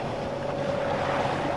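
A sailboat's engine drones steadily at sea, partly masked by wind noise on the microphone and the wash of water, with no voices.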